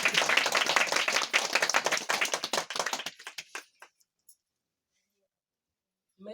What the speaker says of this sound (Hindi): जोर से ताली बजाकर परमेश्वर की महिमा करें